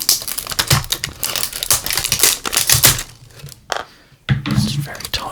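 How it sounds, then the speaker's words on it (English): Tight plastic packing on a diecast car box is worked open close up, with dense crinkling and tapping that pause briefly before resuming, while a voice whispers under it. "These are really tight, these plastic packing things."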